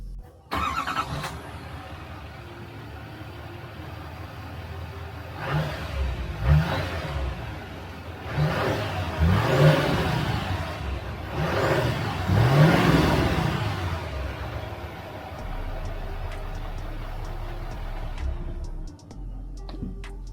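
A 2024 GMC Sierra Denali pickup starts up and idles, its exhaust rising in a few short revs, then settling into a steady, fairly quiet hum close to the microphone.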